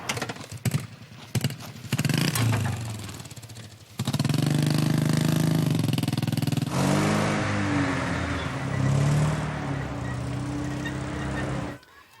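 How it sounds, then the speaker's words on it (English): A car engine turns over and settles into a steady running rumble, loud and close, with a brief mechanical stutter before it catches and a shift in tone partway through. "start the engine"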